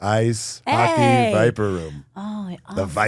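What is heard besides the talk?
None of the usual background noises is heard.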